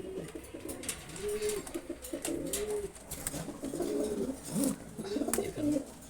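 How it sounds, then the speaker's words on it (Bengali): Several low, rolling coos from a large racer pigeon, one of a high-flying pair, repeating in short phrases close by over faint background noise, with no talk. "কবুতরটা দেখেন একটু"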